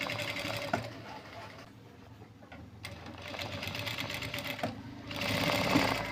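A sewing machine with a double presser foot stitches the lining of a maggam-work blouse neck, running in loud mechanical bursts with a brief quieter pause in the middle, close up.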